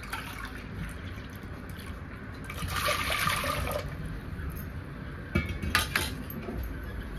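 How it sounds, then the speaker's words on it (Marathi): A cup of water is poured into a pot of tomato mixture, a short splashing gush in the middle followed by a couple of clinks of metal utensils. "आता 1 वाटी भरून मी पाणी ओतून घेते।"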